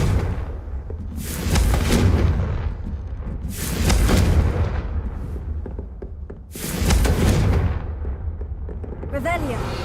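The Confringo fire spell in Hogwarts Legacy sets off three heavy, booming explosions spaced a few seconds apart, each with a roaring rumble that decays into the next.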